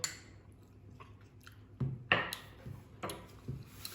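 Someone chews a mouthful while tasting pork rib sauce, with a few close, moist clicks and squishy bites scattered at an uneven pace, fairly quiet and without talk.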